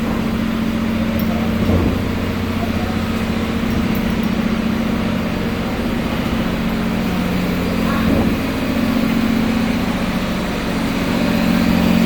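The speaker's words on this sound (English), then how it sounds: "Engine room." A diesel engine runs in a ferry's engine room, producing a loud, steady, low droning hum that holds constant and close without letup.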